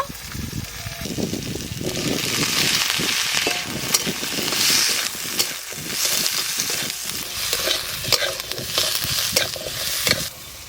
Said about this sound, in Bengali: আলু পেঁয়াজ একসঙ্গে একটু ভালো করে ভাজা ভাজা করব